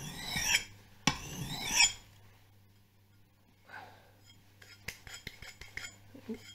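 A carpenter's axe edge is stropped to remove the burr, giving two loud rasping strokes at the start, then softer scraping and several sharp ticks and light taps, close and with no talking.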